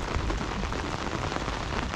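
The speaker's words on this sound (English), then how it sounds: "It's just rain at the moment" Rain falls steadily on an inshore fishing boat at sea, a dense close patter of drops on the deck and surfaces, loud and even with no voices.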